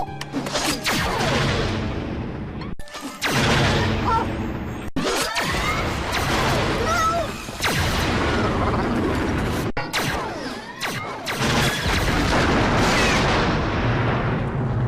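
Eve, the robot from the WALL-E film, fires her blaster in a run of loud, booming blasts and crashes with whooshing energy sweeps, sustained over several seconds with brief gaps between bursts.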